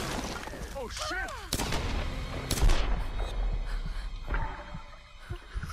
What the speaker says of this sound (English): Grenade launch into the chest.